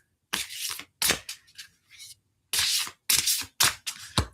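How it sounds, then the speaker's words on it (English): A deck of cards is shuffled in several quick, crisp bursts separated by short pauses. The shuffles are close and clear with no talking. "let me shuffle a card for you, girl. Got the deck here."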